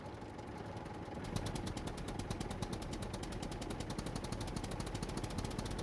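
A tractor engine in the survival game SCUM runs with a steady rapid mechanical clatter, shifting into a lower gear partway through and then continuing with an even, throbbing pulse, fairly quiet, no voices.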